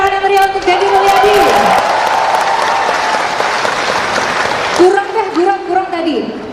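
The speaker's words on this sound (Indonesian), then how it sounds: "Kita beri tepuk tangan yang meriah untuk Deddy Mulyadi." An audience gives loud, dense applause for Deddy Mulyadi, a roaring wash of clapping with some cheers that swells and fades, while a voice talks before and after it.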